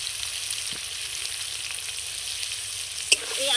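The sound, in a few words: potatoes frying in a pan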